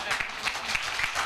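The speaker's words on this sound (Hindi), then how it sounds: "फटाफट उनके लिए जोरदार ताली हो जाए" Audience applause and clapping for people called up on stage at a direct selling seminar, a steady dense patter of many hands lasting briefly, with a few louder claps standing out.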